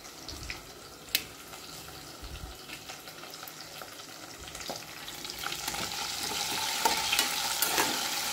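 Chana dal, curry leaves, green chillies, onion and garlic fry in hot oil for rice upma, giving a steady close-up sizzle and crackle. Scattered clicks of stirring sound through it, and the sizzle grows louder toward the end. No one talks.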